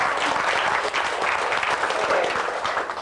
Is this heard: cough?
no